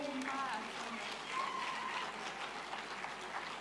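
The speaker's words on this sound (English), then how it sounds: "A round of applause to our midwife of the year." Steady applause from an audience at a health awards ceremony honouring the midwife of the year, continuous clapping throughout with some voices mixed in.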